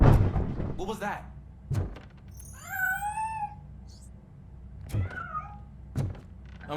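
A cat in the RoboCop: Rogue City video game gives a few rising meows at middle distance, mixed with thuds and clunks of a door.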